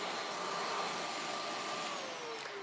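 A vacuum cleaner with a hair-pickup tool runs steadily on dog hair, a loud continuous whine and rush of suction with a slight pitch shift near the end and no talking.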